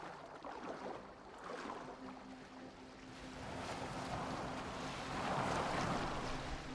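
A boat moving over open water in the Assassin's Creed Valhalla video game, with a steady wash of waves and wind that swells toward the end. A low tonal hum runs underneath.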